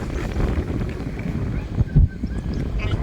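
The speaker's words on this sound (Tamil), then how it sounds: "காத்து சரியான காத்தடிக்குது." Strong wind buffets the microphone during a weekend bike ride out of Bangalore, with rumbling low gusts and one sharp thump, continuous and close.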